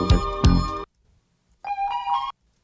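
The opening of a track plays: a sustained tonal note with a hard attack, then a pause, then a second bright bell-like tone, heard clean and alone.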